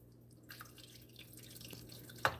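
Hot water poured into a pan while making caramel flan: a soft, steady trickle and splash that starts about half a second in and continues, ending with a sharp drip-like tap near the end. No talking.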